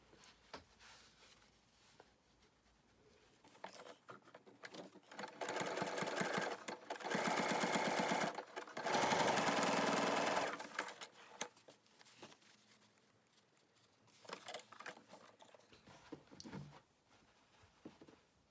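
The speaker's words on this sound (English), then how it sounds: "you use the zigzag stitch to join them" A sewing machine stitching a zigzag seam joining fabric hexagon pieces for a bowl: two close bursts of rapid, even mechanical chatter in the middle, with quieter handling clicks and fabric shuffling before and after.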